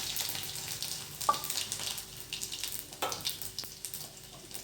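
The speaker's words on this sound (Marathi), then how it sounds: "स्टीलची कढई असली ना जास्त तडकते ते बघा" Cumin seeds and garlic sizzle in hot oil in a steel pan over a low flame, a steady soft crackle with a few sharper pops.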